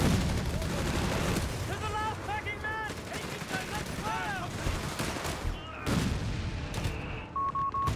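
In a Company of Heroes 3 match, US Forces fire a 3-inch gun at a bunker, and the booming impacts mix with rattling machine-gun fire. The battle noise is dense and loud under a commentator's steady voice.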